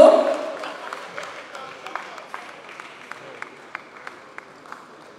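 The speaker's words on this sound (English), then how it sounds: "One more clap, man." A voice fades out at the start, then an audience at a comedian's birthday celebration claps in a thin, uneven pattern of separate claps that gradually slows and softens.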